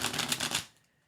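A brief riffle of tarot cards being shuffled, a quick burst of crisp rapid flicks lasting under a second before fading to quiet.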